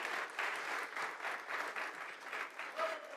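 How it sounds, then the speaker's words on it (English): Sustained applause from a conference audience at a breakfast plenary session, steady dense clapping with slight swells throughout, moderately distant in a large hall. "let's give them one more round of applause"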